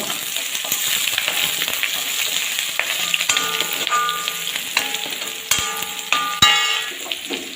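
Curry leaves, shallots and garlic fry in hot oil with a continuous sizzle, while a spoon stirs and clinks against the pan several times toward the end.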